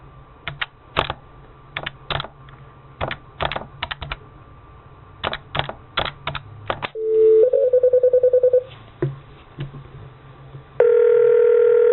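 A desk phone placing a call: scattered button clicks, then a burst of touch-tone DTMF beeps and a steady dial tone near the end, all loud and close with no talking.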